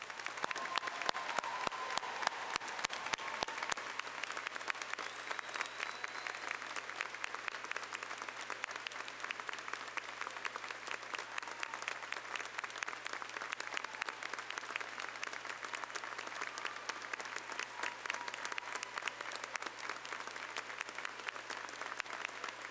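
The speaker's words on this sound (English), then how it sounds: "One more round of applause." A large audience at the Beavercreek High School Class of 2025 graduation ceremony gives sustained applause, a dense wash of many hands clapping that lasts over twenty seconds at an even level.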